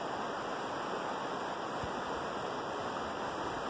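A creek flows steadily in an outdoor setting, a continuous rushing hiss of water that stays even and fairly close throughout.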